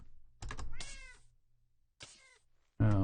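Cats in the Minecraft video game meow in a few separate calls with pauses between, fairly quiet, followed by a louder, lower sound at the end; no talking.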